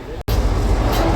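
Inside a moving sleeper train bound for Mumbai, a continuous loud rumble of the carriage fills the air, broken by one very brief dropout near the start.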